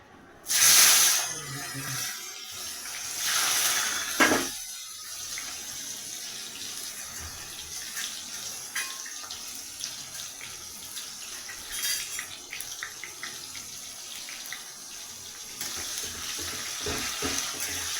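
Tomatoes hit a hot pan with a loud burst of hissing sizzle, then the frying settles into a steady low crackle with occasional stirring clatter, fairly close and with no talking.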